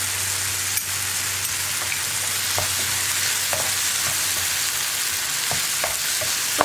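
Whole seedless grapes are sautéed in a pan for a grape chutney with salt and green chillies, giving a loud, constant sizzle with occasional light taps and scrapes from stirring.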